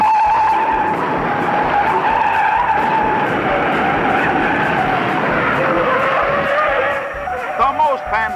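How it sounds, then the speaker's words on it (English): Race cars skid with loud, sustained tire squeal and engine roar as 37 cars pile up in a NASCAR crash at Daytona, continuous and close before briefly easing near the end. "The most fantastic pileup in auto racing history takes 37 cars out of the race."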